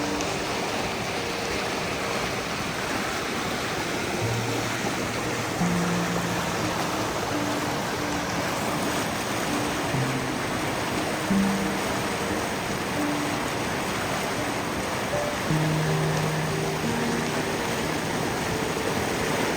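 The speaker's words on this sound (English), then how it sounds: "the creek was already overflowing its banks" Rushing water from a creek overflowing its banks after about eight inches of overnight rain, a steady broadband roar that stays loud and constant throughout.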